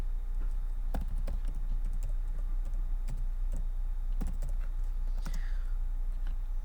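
Keys clatter on a computer keyboard in irregular bursts of close, crisp clicks with short pauses, over a steady low room hum.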